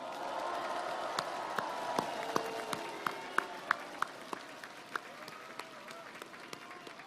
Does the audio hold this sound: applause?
yes